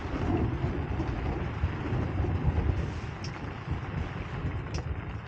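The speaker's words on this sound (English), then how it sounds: "can you hear that? That is the thunder and lightning." Thunder from a storm on Mount Sindoro in Central Java rumbles low and steady, a distant rolling roar mixed with wind buffeting the microphone.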